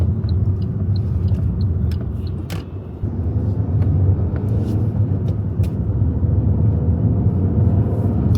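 An Alfa Romeo MultiAir engine with a new O2 sensor idles close by, a steady low rumble with faint clicks and ticks on top.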